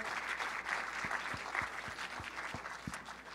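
Steady applause from a church congregation celebrating an anniversary and upcoming water baptisms, fairly distant and even throughout with a few sharper individual claps.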